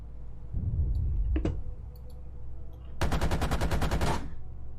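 Tank guns fire in the video game GHPC: a single sharp blast, then a rapid, loud burst of automatic fire lasting about a second.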